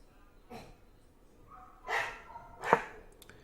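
Dog barking indoors, three short separate barks spread over a few seconds, the last the loudest and sharpest, with a quiet room between them.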